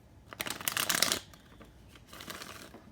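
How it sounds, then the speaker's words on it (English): Tarot cards are shuffled in a quick riffling burst, followed by a softer second shuffle, close and crisp in a quiet room. "Go ahead and shuffle some of these tarot cards."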